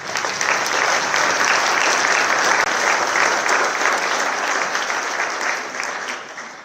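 Steady applause from an audience at a nursing pinning ceremony at Hofstra University, held at an even level for about six seconds before easing slightly toward the close.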